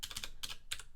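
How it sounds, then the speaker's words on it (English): Quick bursts of typing on a computer keyboard, close and fairly quiet, with clusters of clicky keystrokes separated by short pauses. "the typing today is so bad"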